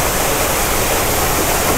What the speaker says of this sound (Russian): тут сверху бешено течет